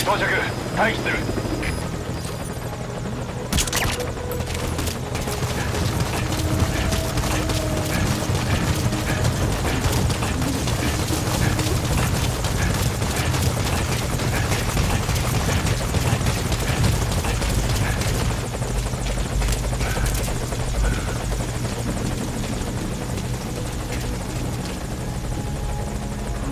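Helicopter landing at a landing zone in the video game Metal Gear Solid V: Ground Zeroes, a loud steady rotor thump and engine whine throughout, with radio-style voices speaking over it.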